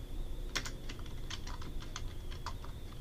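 Fingers tap out a quick, uneven run of keystrokes on a computer keyboard, close and clear over a low steady hum.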